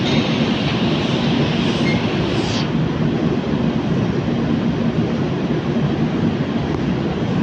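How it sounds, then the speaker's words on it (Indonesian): Freight trains at Tanjung Priok railway station in Jakarta, an old Dutch-era station, make a loud, continuous rolling rumble with a brief high squeal early on and no speech over it. "Nah itu kereta-kereta barangnya guys."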